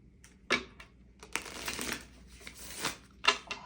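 Playing cards are shuffled close up, with a series of soft riffling and snapping bursts at irregular intervals, quiet and without talk.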